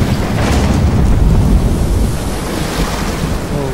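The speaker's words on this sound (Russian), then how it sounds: "Шторм-то." A storm at sea in the video game Estranged: loud, continuous crashing waves and roaring wind fill the whole stretch, with no talk.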